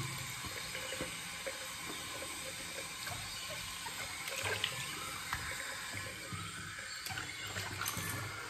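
Cold water runs steadily from a bathroom tap into a sink during a straight razor shave, a continuous close splashing hiss with small fluctuations and no voices.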